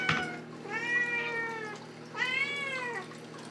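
A cat gives two long, drawn-out meows close by, each rising and falling, with a brief rustle just before the first. The cat is calling out for treats.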